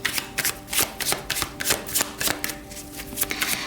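Tarot cards are shuffled by hand in quick repeated riffling bursts, a steady papery rhythm of close crisp flutters with no speech.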